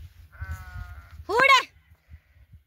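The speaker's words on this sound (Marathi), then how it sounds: "तर मेंढ्या पण हे बघा आल्या तिकडं" A sheep gives one loud, close, wavering bleat, preceded by a thinner, higher bleat from another animal over low background noise.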